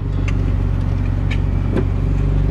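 A ricey Honda Accord with an exhaust leak drives on the freeway, its engine droning steadily and close under continuous road noise, with no talk heard.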